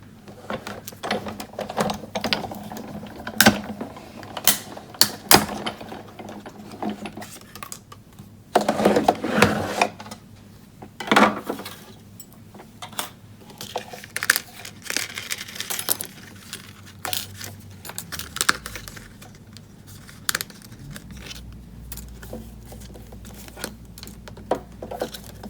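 A hand-cranked card-making die-cutting machine runs a Stampin' Up die through, giving a steady run of small ticking clicks and occasional sharper knocks, close and fairly quiet, with a low hum beneath.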